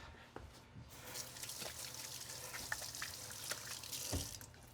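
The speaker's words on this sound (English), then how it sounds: "once you're done rubbing all the herb paste on your pork, wash your hands" Running tap water while hands are washed after rubbing herb paste on raw pork, a soft steady splash and trickle at low level with small bumps of movement.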